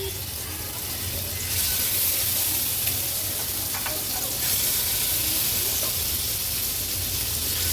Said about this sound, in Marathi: आता एक एक करून ह्या मुशीच्या तुकड्या तेलावर सोडते।